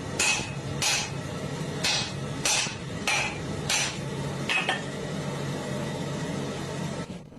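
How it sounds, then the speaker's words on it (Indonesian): Blacksmith striking heated steel with a hammer, seven or eight sharp metallic blows at an uneven pace, fairly close, over a low workshop rumble. "Lalu mengambil palu dan mulai memukul."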